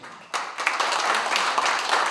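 Guests at a family celebration break into sudden applause, a dense, loud burst of clapping that starts abruptly and carries on steadily.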